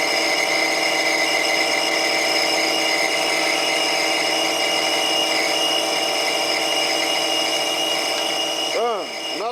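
DSM-A screw machine cutting off a finished part, a steady high machining whine with strong tonal ringing that runs throughout and then breaks into brief wavering squeals near the end.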